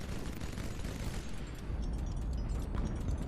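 Explosion of a destroyed target in the naval combat game HighFleet: a dense, sustained blast roar with crackling bursts, continuous and loud for the whole stretch with no pause.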